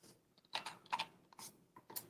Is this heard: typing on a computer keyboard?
yes